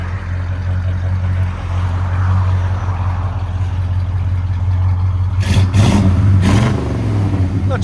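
A 1972 Chevy C10 with a 350 V8 and true dual exhaust through Flowmaster Super 44 mufflers rumbles loudly and steadily at idle close by, then barks through two quick throttle blips near the end.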